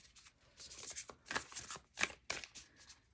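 A deck of shamanic tarot cards is shuffled by hand in a quiet series of soft riffling and slapping bursts, close and faint, over about three seconds.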